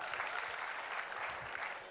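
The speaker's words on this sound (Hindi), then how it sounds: "जोरदार तालियां हो जाए आप सभी लोगों के लिए मेरे दोस्त।" Applause for first-time attendees at a large celebration gathering fills the air with a soft, steady wash of clapping that sounds somewhat distant and holds evenly throughout.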